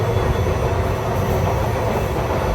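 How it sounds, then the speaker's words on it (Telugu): Passenger train on a Hyderabad to Goa route arriving at a station, a loud continuous low rumble of rolling wheels and carriages, close and steady throughout with no speech. "ఆన్ టైం అయితే వచ్చింది ట్రైన్ అయితే."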